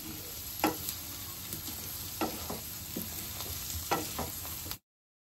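Coriander powder and spices frying in oil for a tangy-spicy olive pickle, a soft continuous sizzle punctuated by repeated scraping strokes of a spoon stirring the pan, close and quiet, ending abruptly in silence.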